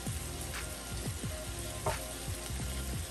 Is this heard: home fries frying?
yes